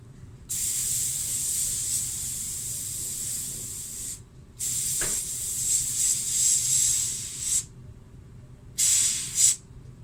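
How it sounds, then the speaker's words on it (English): Bursts of nitrogen or argon gas hiss steadily from a nozzle to dry a lab substrate surface, three separate blasts of bright airy spray with short silent pauses between them, close and fairly loud. "Dry the surface under a flow of nitrogen or argon flow."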